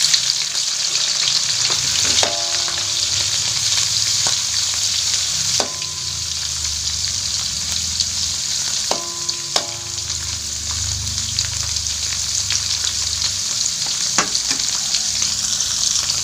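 Teri jengki anchovies frying in hot oil in a pan, a loud steady sizzle running throughout with a few clinking stirs of a utensil against the pan.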